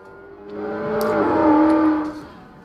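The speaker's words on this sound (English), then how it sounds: "My neighbor's testing out his engine." A neighbor's car engine revs up nearby, swelling to a loud sustained roar around the middle and then dropping away, with steady harmonic tone and no talk over it.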